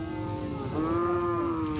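A cow on a cattle ranch on a dry plain gives one long, steady, close moo that lasts nearly two seconds, alone, with no talk.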